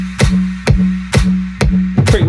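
A dance track drum beat plays steadily, with thumping kicks and sharp claps in a regular four-on-the-floor rhythm over a sustained low bass tone, loud and close, no voices.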